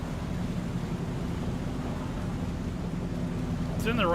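Steady rain in the video game Farming Simulator hisses evenly throughout, a dense continuous wash with a low rumble beneath, joined by a brief brighter sound at the very end.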